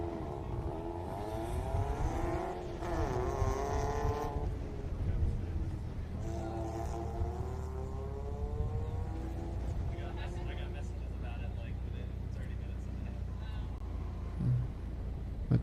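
Mazda MX-5 on an autocross course at a fairgrounds, engine revving and shifting through quick runs of acceleration, moderately distant and mixed with announcer speech.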